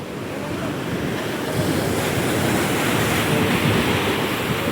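Sea waves surging and splashing at Bamangad on the coast, a loud continuous wash of water mixed with wind noise, building slightly toward the end.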